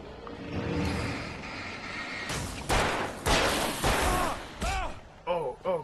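Several loud, sharp gunshots ring out in the Alan Wake video game, spaced irregularly over a few seconds amid rumbling game ambience, with a few ringing, warbling effects near the end.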